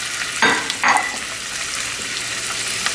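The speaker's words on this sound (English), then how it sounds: "Once I get that sizzle, I know that my seafood is going to sizzle." Seafood sizzles in a hot pan, a bright crackling hiss with two sharp bursts near the start as food hits or is stirred, then a steadier fry close by.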